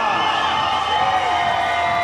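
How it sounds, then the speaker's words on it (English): Arena crowd cheering for Team Canada as the relay swimmers are introduced at an Olympic men's 4x100m medley swimming final: a dense, steady roar of voices fills the pool hall at a constant level. "Big cheer for Canada."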